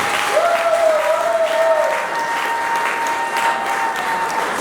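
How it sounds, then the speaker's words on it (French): Wedding guests applauding and cheering for the couple, a dense, sustained wash of clapping from a crowd with a whistle-like tone rising early on. "Acclamez pour le mariage."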